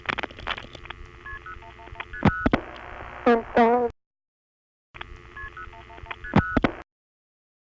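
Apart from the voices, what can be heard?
MF digit tone (MF0) on 1976 NX1 crossbar call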